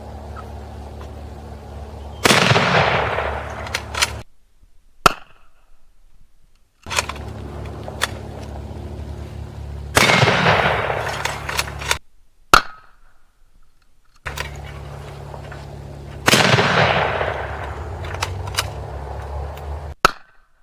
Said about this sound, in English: Mosin Nagant, we're going to take some shots with it.